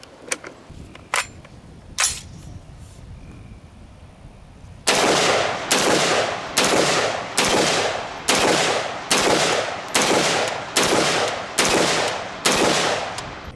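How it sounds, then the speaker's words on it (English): An IWI Zion 15 rifle fires 55 grain full metal jacket ammunition at a shooting range: about a dozen loud, sharp shots in a steady, evenly spaced rhythm. A few fainter clicks and knocks come before them. "We're shooting 55 grain full metal jacket"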